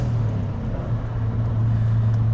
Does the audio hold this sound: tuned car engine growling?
yes